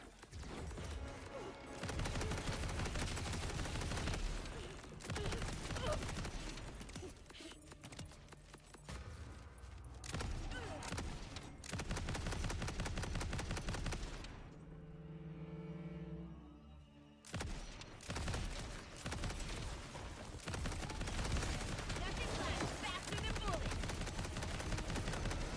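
Rapid video game gunfire from a shooter's boss fight crackles loudly and almost continuously in dense bursts, dropping out briefly midway before the volley resumes.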